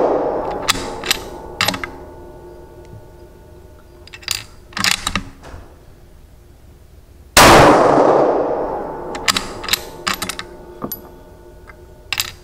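Three loud rifle shots from a 6mm GT rifle during a recoil test, spaced a few seconds apart outdoors, the middle blast strongest with a long rolling echo, amid scattered metallic clinks and clicks.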